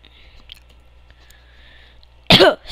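A single sharp cough bursts out loud and close near the end, following a stretch of faint room noise with no talking.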